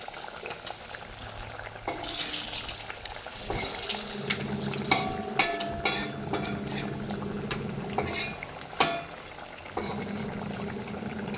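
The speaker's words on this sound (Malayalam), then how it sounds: "നമ്മുടെ അരപ്പൊക്കെ അതേ അത്യാവശ്യം തിളച്ചു തുടങ്ങിയിട്ടുണ്ട്" Curry paste for a Kerala-style pearl spot (karimeen) fish curry bubbles steadily in a pot, with a continuous close simmering hiss and occasional sharp clinks and scrapes of a utensil against the pot.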